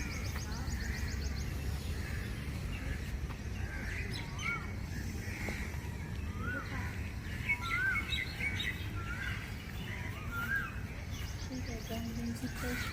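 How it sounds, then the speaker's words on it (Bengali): Many birds chirp and call around an outdoor yoga and breathing-exercise setting, with scattered short whistled calls rising over a steady, low background hum that fills the whole stretch. "চতুর্দিকে ব্যাকগ্রাউন্ড মিউজিকটা শোনো, এত পাখির কলরব।"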